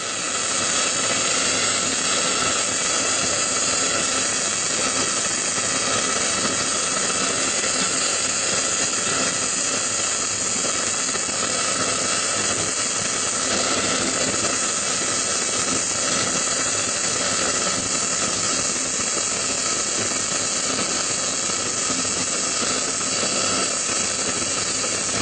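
Pipe welding on the root pass gives off a steady, unbroken hiss and sizzle with a high-pitched whine, close and constant for the whole stretch, with no voices.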